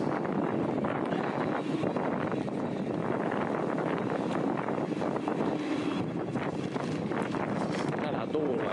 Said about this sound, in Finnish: Täällä tuulee.